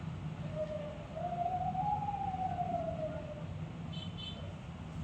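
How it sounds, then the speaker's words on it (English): An ambulance siren sounds through traffic jammed by a street fiesta, rising and falling in one long, moderately distant wail over a low background rumble, with no talking. "ambulance."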